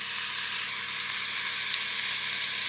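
Ground meat sizzles steadily in a hot pan, a bright continuous crackling hiss with no voices over it.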